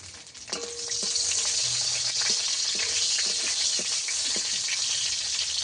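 Slit green chilies fry in hot oil with a bright, steady sizzle close by, broken by a few sharp clicks and scrapes of stirring, with no talking.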